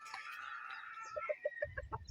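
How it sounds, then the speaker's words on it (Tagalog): Chickens cluck and a rooster crows nearby, ending in a quick run of short, rhythmic clucks. "Yung mga manok sa Abra."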